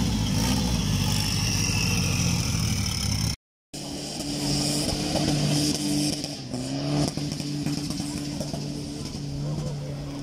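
Loud off-road race vehicle engines rev and roar close by at an off-road race at Khlong Chamrai Reservoir, Khlong Hoi Khong, Thailand, with a brief dropout, then vehicles keep droning and accelerating, with mechanical clatter and possible faint voices underneath.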